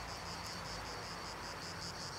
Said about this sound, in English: The sound of the cicadas in the distance.